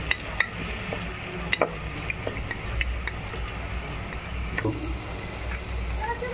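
Coarsely crushed garlic sautéing in a pan while a cashew vegetable dish is cooked, a steady soft sizzle with occasional stirring clicks and scrapes, fairly close and moderately quiet.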